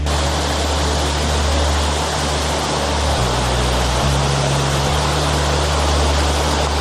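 A backcountry creek waterfall roars as a loud, steady broadband rush of falling water, close by and continuous, with no voices.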